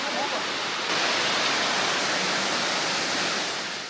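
A waterfall swollen after rain rushes in a dense, constant roar of broadband water noise, loud and unbroken throughout on a misty Western Ghats trek.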